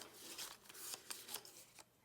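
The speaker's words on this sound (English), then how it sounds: "And then I'm gonna give them a good shuffle. I'm gonna mix all my cards up." Small paper word cards and clock-time cards for a time-matching game are shuffled by hand. The result is a quick run of soft riffling and flicking bursts, close but faint.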